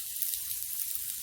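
Thin potato slices laid on a hot pan sizzle after a little oil is drizzled over them, a brief, even, hissing fry heard close up with no talking.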